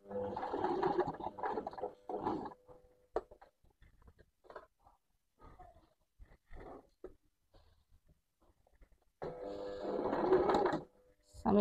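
A sewing machine stitches an invisible zipper onto fabric in short bursts of rapid mechanical whirring, with longer runs at the start and end and quiet gaps between them. Someone talks in between.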